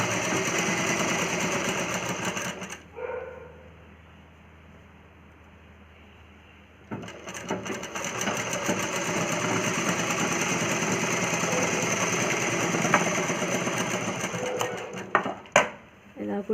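A sewing machine stitching a plain cross-cut blouse, running in loud rapid bursts with a pause partway through, then resuming with clicks and handling noises.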